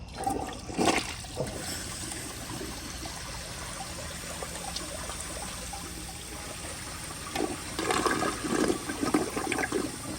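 A 1978 Eljer Emblem toilet flushes a gray rag in a continuous close rush and swirl of water that holds steady for about ten seconds before surging again near the end as the bowl drains and refills.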